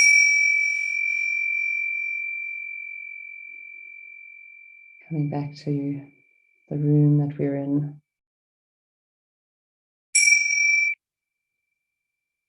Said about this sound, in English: following the sounds of the bell, just allowing ourselves to come back to where we are.